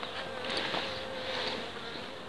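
Honey bees buzz steadily around a honey frame lifted from a hive during a colony split, a dense continuous hum close by with no voices, ending in a brief loud knock.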